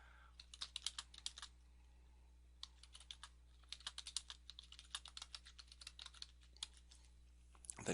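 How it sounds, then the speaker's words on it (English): Fingers tap away on a computer keyboard in quick, uneven bursts of close, crisp key clicks over a faint steady hum, with short pauses between runs and no talking. "type in your site name, and then type in a description"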